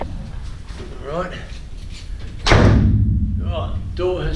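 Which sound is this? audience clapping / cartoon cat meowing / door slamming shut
door slamming shut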